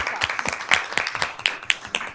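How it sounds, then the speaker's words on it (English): Brief clapping at a school district board meeting, a small group of hands beating in a quick uneven rhythm, close and fairly loud. "Round of applause."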